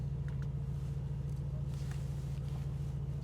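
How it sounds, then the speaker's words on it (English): A 2024 Mercedes-AMG GT idles with a steady, deep engine rumble, constant and moderately close with no revving or speech. "you can actually put that into sport, sport plus, sound starts changing"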